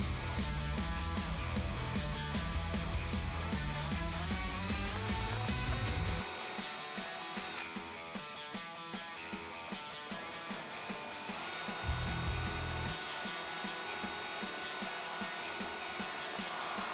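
A power drill bores holes through plastic truck fender-flare trim pieces, its motor whining in sustained bursts with pitch shifts as the bit bites and releases, a brief pause midway, no talking.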